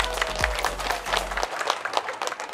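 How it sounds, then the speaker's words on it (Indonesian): Crowd at a community bazaar in Kediri applauding for a political party, a dense patter of many hands at moderate distance, with a low hum fading out partway. "Tepuk tangan untuk Partai Perindo."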